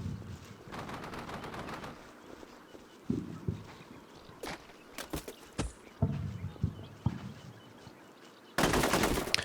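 Gunfire in the Combat Mission Shock Force 2 video game crackles in scattered sharp bursts and single shots, some near and loud, others fainter, over a quiet background, ending in a dense burst of fire.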